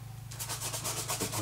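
A paintbrush scrubs watercolour paint onto paper in quick, steady back-and-forth rubbing strokes, close and soft, over a faint low hum.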